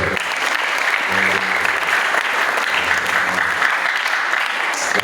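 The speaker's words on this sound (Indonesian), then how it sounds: "sekali lagi tepuk tangan buat beliau" A crowd at a pondok pesantren gathering in Cirebon applauds loudly and steadily for several seconds, a dense wash of clapping with a voice speaking through it.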